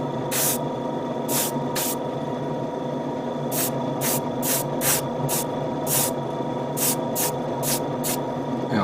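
Matte top coat is sprayed from an aerosol can onto a Bandai HG ATM-09-ST Scopedog model kit in a run of short, hissing bursts, some single and some in quick clusters, over a steady low room hum.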